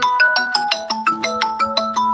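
A mobile phone ringtone rings loudly and close, a repeating electronic melody of bright, evenly spaced tones with steady rhythm and no talking over it.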